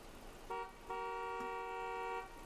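A vehicle horn in the train simulator Train Sim World 5 honks twice, a short toot followed by a long held blast, clear and moderately loud.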